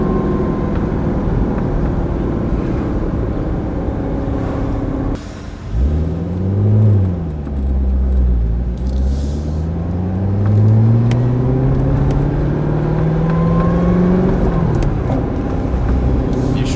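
A Corvette Z06 engine pulls hard after a brief gear change, its deep roar and high supercharger whine both sweeping upward together as speed builds.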